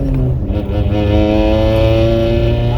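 A turbocharged Mitsubishi Lancer engine revs up strongly in second gear, its harmonic whine rising steadily as it accelerates hard, loud and close from inside the car.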